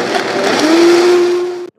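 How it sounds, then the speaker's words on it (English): Blender running on high with coconut and hot water inside, a loud steady whirring roar with a rising motor whine that cuts off abruptly near the end. "you're going to blend it for 1 to 2 minutes on high"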